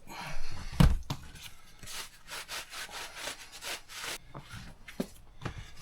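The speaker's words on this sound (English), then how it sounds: "So I'm just going to sand this just to make sure there's something for the epoxy to stick to." Sandpaper is rubbed by hand over the surface of an Intex Challenger inflatable kayak to scuff it for epoxy. Quick, repeated rasping strokes come up close in an uneven rhythm, with a few louder knocks and no talk.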